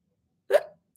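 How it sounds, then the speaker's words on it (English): A single sharp, close hiccup breaks a short silence, a brief voiced gulp that tails off quickly. "if the hiccups don't go away"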